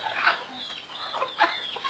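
Native country chickens clucking close by, a few short scattered clucks and calls over about two seconds with no talk.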